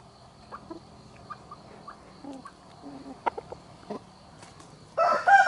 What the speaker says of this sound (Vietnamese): Đây là một con gà bình thường các bạn ạ, không phải là gà ép đâu nhá.